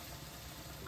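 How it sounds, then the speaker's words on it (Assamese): Rice-flour pitha made from bora rice, with milk and a little coconut, frying in hot oil for Bihu: a steady, low sizzle with a brief louder crackle at the very end. "এয়া পিঠা ভাজি আছোঁ"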